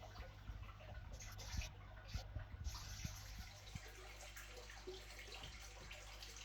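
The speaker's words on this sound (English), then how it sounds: "We vacuum with a long hose that throws the water right out" Aquarium water drains through a long siphon hose during vacuuming, a quiet continuous trickle and gurgle with scattered small splashes and drips over a steady low hum.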